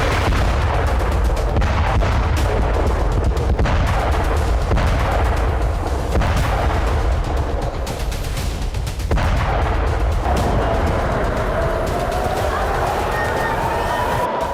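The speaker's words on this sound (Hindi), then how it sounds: "आसमान से ईरान पर इजराइल के बरसते बारूदी शोले हैं।" Israeli airstrikes on Iran: dense, repeated booms and crackling blasts rumble almost continuously, with a rising whine near the end and faint voices underneath.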